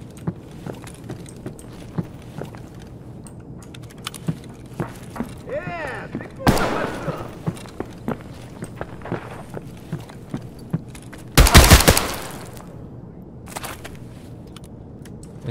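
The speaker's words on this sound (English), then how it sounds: "This gun sounds so goddamn powerful." Gunfire from a weapon in the video game Escape From Tarkov: one sharp, loud shot, then later a short burst of several rapid shots, with quiet footsteps and faint rustling between.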